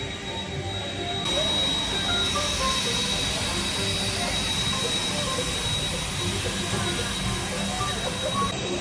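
A steady, loud mechanical rumble of an idling steam locomotive at Dollywood, continuous throughout with a constant high whine above it and no voices.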